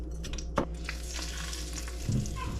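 Small fish fillets of walleye or bullhead, coated in egg and crumbs, fry in hot oil with a soft, steady sizzle and occasional crackles and light stirring clatter, fairly quiet and without talk.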